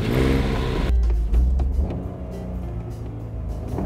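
A family car speeds off during a 50 km/h challenge, its engine roaring loudly up close, then dropping to a steady rumble as it pulls away.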